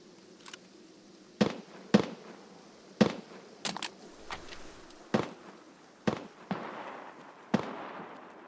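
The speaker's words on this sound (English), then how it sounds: "The grenade launcher." Grenade launcher rounds exploding in the shooter game Escape from Tarkov, a series of sharp booming blasts spaced a second or so apart, each fading quickly, with faint buzzing between them.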